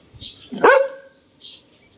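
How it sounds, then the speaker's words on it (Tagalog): A single sharp dog bark rings out close by, with a couple of faint squeaky chirps before and after it. "nakakagulat naman yung tahol mo eh"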